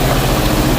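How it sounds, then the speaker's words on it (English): A beater car on a long-distance rally road trip idles fast and steady, a dense low engine rumble with a slight knocking vibration, loud and close, with no talk over it. "it's idling pretty fast."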